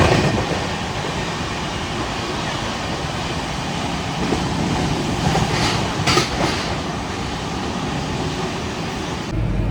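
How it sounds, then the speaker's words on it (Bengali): Heard from inside a coach, a long-distance train departs Howrah station on a rainy day. It makes a continuous loud rumble and rattle, with faint rhythmic clatter and no talk. "এখন আমাদের ট্রেন ছেড়ে গেল হাওড়া স্টেশন থেকে।"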